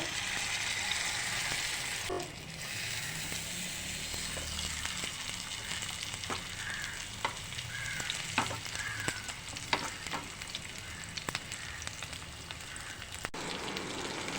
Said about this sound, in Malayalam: എണ്ണ ചൂടായി നമുക്കതിലേക്ക് ഈ കരിമീൻ ഇട്ട് കൊടുക്കാം ഞാനിത് മുഴുവനായിട്ടാണ് പൊരിക്കുന്നത്